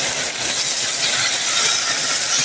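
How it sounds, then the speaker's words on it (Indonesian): Tempeh fries in hot oil with a loud, constant, close sizzling hiss that continues without a break. "ini tempe digoreng-goreng."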